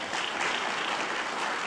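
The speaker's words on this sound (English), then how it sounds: "Give him a round of applause." At a health equity summit, a room full of attendees claps in a smooth, continuous wash of applause, fairly soft and distant, with no speech over it.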